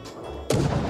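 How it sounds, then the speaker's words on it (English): A single heavy boom of battleship cannons firing in World of Warships, a sudden loud blast with a rumbling tail over a steady engine hum. "I need to expose more of my cannons in order to get them off"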